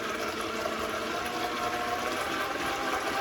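Water overflows and rushes steadily throughout while a brushed RC car motor is broken in, a dense, even hiss with no pauses.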